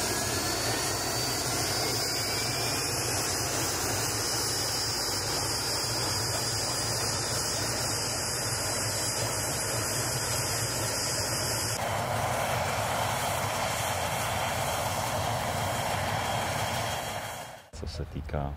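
A VIP transport helicopter flies past as a loud, continuous turbine and rotor roar that fills the scene, its tone shifting partway through before cutting off abruptly near the end, with no talk.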